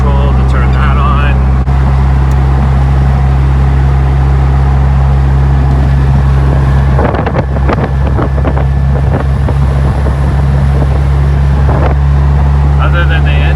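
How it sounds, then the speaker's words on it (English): Inside a moving performance car fitted with nitrous and traction control, a steady, loud low engine drone runs throughout beneath constant wind buffeting, with a brief burst of rattling noise midway. "Other than the engine noise and some wind noise"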